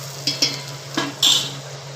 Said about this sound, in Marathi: चांगलं मंद गॅसवर परतून घेऊ कांदा.